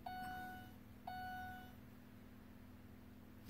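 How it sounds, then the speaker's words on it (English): A 2002 Ford F350 warning chime sounds twice, two clear electronic beeps about a second apart, each ringing out briefly before fading, faint against a steady engine-like hum, with no talking. "That's just a normal beep."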